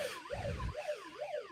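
An emergency siren wails in a rising and falling pattern, faint and distant in the background of a phone-in call to a radio station, with no speech over it.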